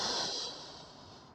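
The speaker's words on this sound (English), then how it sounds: "Inhale and exhale." A single deep breath during a standing yoga sequence, close and fairly loud, with a breathy hiss that tapers away over about a second, no talking.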